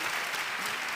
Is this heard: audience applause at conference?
yes